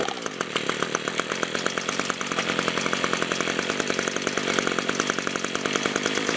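An Echo SRM-230 string trimmer's small two-stroke engine runs steadily at a fast idle, a buzzy, rattling drone with a constant rapid pulse, close by and with no talking.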